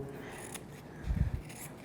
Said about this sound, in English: And then I'm going to push down the edge here and cut off the remainder.